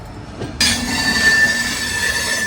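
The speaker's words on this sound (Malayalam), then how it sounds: "ഈ പുറപ്പെട്ട് പോകുന്നത് വിജയവാഡ MGR ചെന്നൈ സെൻട്രൽ ജനശതാബ്ദി കേട്ടോ" The Vijayawada–MGR Chennai Central Jan Shatabdi passenger train departs Vijayawada, rumbling and hissing close by with a steady high-pitched wheel squeal, the noise rising abruptly and staying constant.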